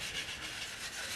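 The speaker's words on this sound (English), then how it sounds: "continue wet sanding in a circular motion" A gun stock is wet sanded with finish in circular strokes, giving a soft, continuous close rubbing hiss.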